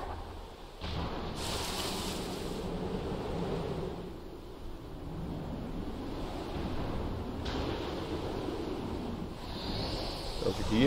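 Water and waves in the video game Black Myth: Wukong along the Verdant Path, a continuous rushing wash of surf with breezy noise, steady and fairly loud, with no one talking.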